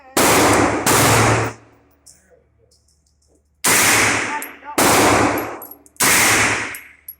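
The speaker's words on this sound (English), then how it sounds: "So here she is shooting 9mm." An AR-9 16-inch carbine fires 9mm rounds at a range, with five loud, sharp shots spaced a second or more apart and brief ringing decay after each.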